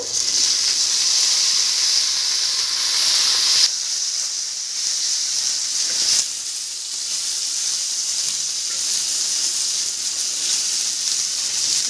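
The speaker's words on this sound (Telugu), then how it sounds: "బాగా పచ్చివాసన పోయేంత వరకు మనము నూనెలో బాగా వేపాలి" Tamarind and chutney ingredients fry in hot oil in a home kitchen, giving a steady, close sizzling hiss that runs without a break, with a couple of small shifts in intensity as the pan is stirred.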